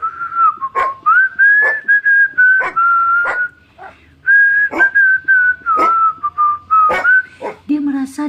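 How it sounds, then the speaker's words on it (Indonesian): An eight-year-old boy whistles a steady, wavering tune while walking, loud and close, with sharp clacking sounds and a dog barking or whimpering mixed in. "Sambil berjalan dia bersiul-siul."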